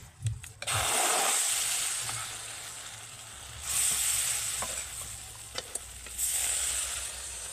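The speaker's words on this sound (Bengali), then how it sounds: "এইবার চামচ দিয়ে এক চামচ ব্যাটার আমি কড়াইতে দিয়ে দেবো" Spoonfuls of batter sizzle and hiss in a lightly oiled kadai, a steady frying crackle that swells sharply twice as more batter goes in, with occasional faint clinks.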